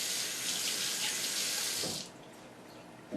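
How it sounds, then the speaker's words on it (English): Running tap water splashes steadily into a kitchen sink as egg is rinsed off fingers, close and continuous for about two seconds before the flow is shut off. "Rinse the egg off my fingers so I don't get it all over everything."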